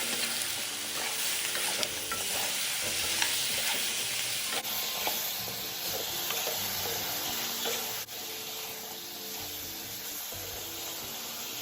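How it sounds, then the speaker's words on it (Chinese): Shallots, star anise and a cinnamon stick stir-fried in a wok for sweet and sour pork ribs, a steady close sizzle with repeated spatula scrapes and clacks, no speech. "继续拌炒至香料溢出香气"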